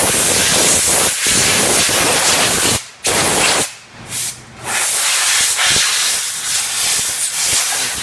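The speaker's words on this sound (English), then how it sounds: "you want to blow off all the dirt inside the intake" Compressed air blasts dirt out of the intake of a Ford 6.0 Powerstroke engine, a loud, close, continuous hiss that cuts off briefly a few times before resuming, with no talking.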